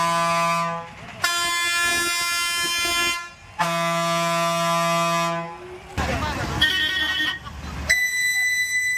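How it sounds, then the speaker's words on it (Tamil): Loud, piercing vehicle horns blare in long sustained blasts, several in a row with brief gaps, followed by harsher mixed horn tones, all close and dominating the roadside soundscape. "பொதுமக்கள் மற்றும் பயணிகளுக்கு இடையூறு ஏற்படுத்தும் வகையில் ஒலி எழுப்பும் ஹாரன்கள்"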